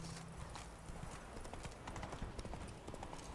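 Quick hoofbeats pound out a galloping rhythm from a horse in The Witcher 3, close and steady for a few seconds, with no speech over them.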